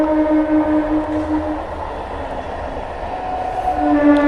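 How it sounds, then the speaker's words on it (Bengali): A train arriving in light drizzle, with a loud continuous rumble and a sustained horn tone that fades midway and swells again at the end, close and dominant with no talk. "আর এই যে দেখো ট্রেন চলে এলো"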